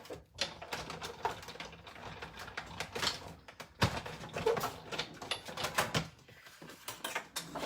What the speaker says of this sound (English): And I'm going to just run this through my die cutting machine.